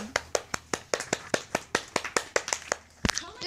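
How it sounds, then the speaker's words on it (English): Children clap together at a Halloween campfire story session, a quick run of roughly a dozen separate, close claps in an uneven rhythm, ending with one sharp louder clap. "Let's all clap."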